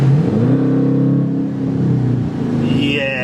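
A car fitted with an aftermarket pedal box pulls off hard, its engine note climbing steadily in pitch as it accelerates, loud and heard from inside the cabin.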